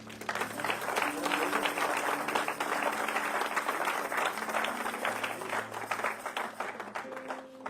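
A church congregation applauds steadily to acclaim the Lord during a worship service, a dense, sustained wash of clapping filling the room throughout, with faint voices mixed in.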